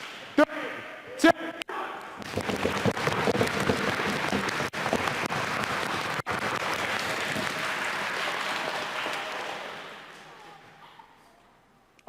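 A congregation at a celebration service stamps feet and claps together, a loud dense rumble of stamping and applause building after a few sharp claps, holding for several seconds then fading out.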